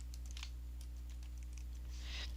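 Light, quick clicks of typing on a computer keyboard while entering data in an Excel spreadsheet, scattered and fairly faint over a steady low electrical hum.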